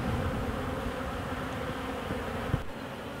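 Honeybees from a wild colony nuc buzz steadily around an open hive, a dense, continuous drone close by that stays level throughout with no voices.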